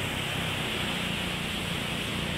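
Big ocean waves near a beach where people wait to haul in boats, a dense, constant roar of surf with no distinct breaks, loud and enveloping.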